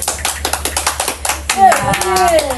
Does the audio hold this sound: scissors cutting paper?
no